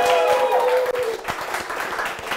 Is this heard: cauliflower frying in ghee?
no